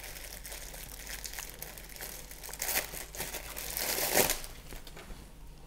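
Crinkling of a thin plastic bag as a bicycle bell is unpacked from it, soft rustles building to a sharper crumple near the end, close and fairly quiet.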